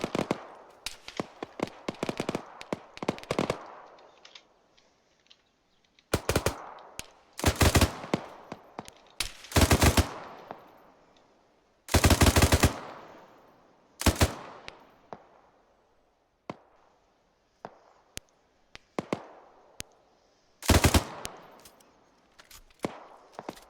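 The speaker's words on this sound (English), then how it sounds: "Either just ran out of ammo or weapon jam." Automatic gunfire in Arma 3 rattles out in repeated loud bursts of varying length, separated by short pauses, with scattered single shots and distant reports between them.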